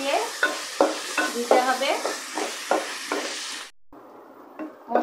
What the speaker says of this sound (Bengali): আদা বাটা দিয়ে আলু সাথে ভালো করে মিশিয়ে